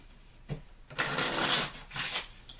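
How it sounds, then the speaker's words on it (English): Tarot cards riffle and slap together in a few quick shuffling bursts, close and crisp, separated by brief pauses. "taking the deck in hand, and I'm shuffling the cards."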